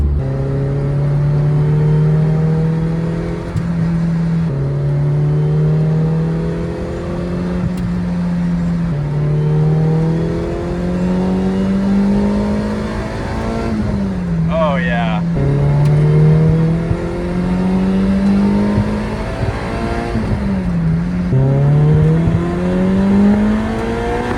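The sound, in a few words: Toyota MR2 car driving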